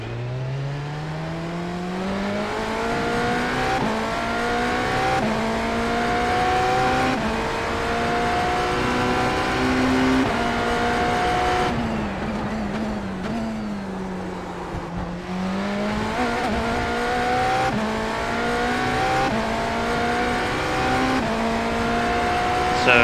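A race car engine in an IMSA endurance racing video game at the Montreal circuit drones loudly and continuously, its pitch rising through the gears and dropping on downshifts as the laps go by.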